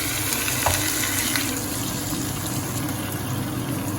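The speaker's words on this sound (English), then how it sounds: "and then add water to it. We add water." Water pours into a hot pan of chicken curry and the sizzling rises into a steady, bubbling hiss that continues evenly to the end.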